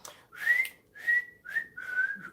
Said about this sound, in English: Let's just whistle for a minute.